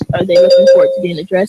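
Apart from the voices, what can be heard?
timing bell sounding at a debate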